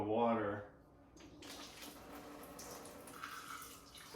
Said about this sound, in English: I'm going to mix it here with a little bit of water